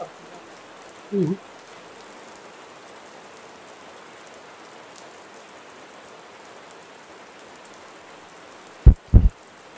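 Light rain patters steadily in the background, with a brief faint voice early on and a couple of short knocks near the end.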